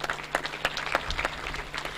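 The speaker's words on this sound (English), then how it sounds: "please put your hands and clap it." An audience at the Afro Indian Investment Summit 2022 claps, a thin scatter of hand claps at moderate distance, fairly sparse and even throughout.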